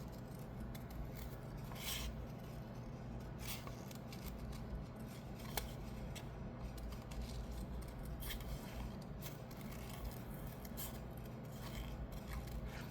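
Scissors snip repeatedly through paper, cutting out a candle shape for Christmas gift tags, each crisp cut close and fairly quiet over a low steady room hum.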